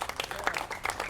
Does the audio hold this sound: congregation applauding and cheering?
yes